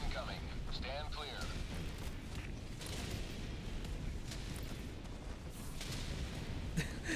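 Orbital barrage strikes in Helldivers 2 rumble as a dense, continuous wash of low explosions and booms, with voices talking over the top.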